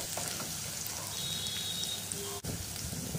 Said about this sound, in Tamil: வெங்காயம் நல்ல கலர் மாதிரி வர்ற அளவுக்கு நல்லா வதக்கிக்கலாம்